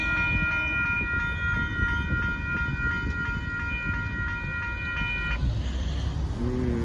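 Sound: Union Pacific northbound mixed freight train passing

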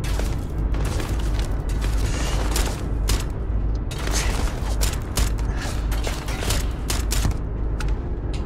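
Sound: spaceship landing in a video game

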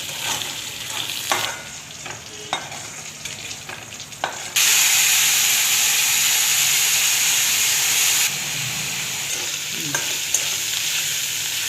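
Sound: frying dried bombay duck fish

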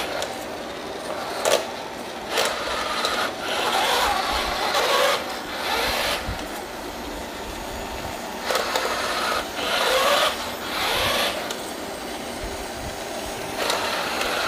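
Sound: autonomous floor cleaner robot with roller and drying fan running

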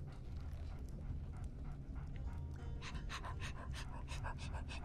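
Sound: dog panting in Game of Thrones video game

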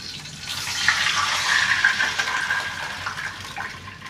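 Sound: water being poured into a cooking pan

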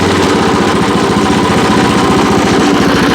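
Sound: WEIMA WM900M-3 walk-behind tiller engine started and revved

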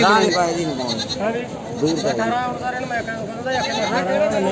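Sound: goat bleating

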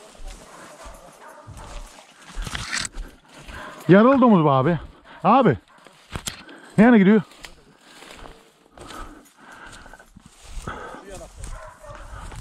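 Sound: hunting dogs barking during a wild boar hunt

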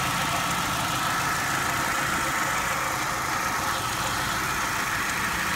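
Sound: 1996 Buick Century engine idling

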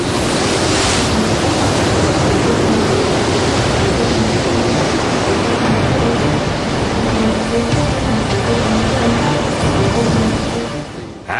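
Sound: violent storm at sea, waves

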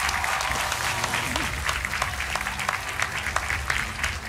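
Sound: studio audience applause on a TV quiz show

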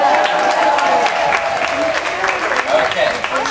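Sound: audience clapping and cheering

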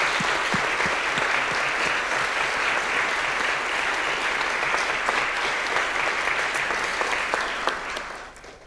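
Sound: applause

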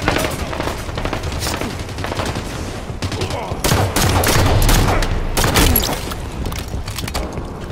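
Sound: gunfire in the video game Halo 5 Guardians

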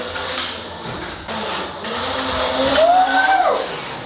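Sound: Nilox Doc Pro electric scooter accelerating

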